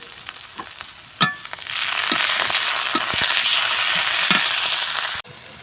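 Onions, cumin paste, chili and turmeric powder fry in a pan for a village-style dried-fish curry, sizzling steadily and close up, with occasional stirring scrapes and clinks.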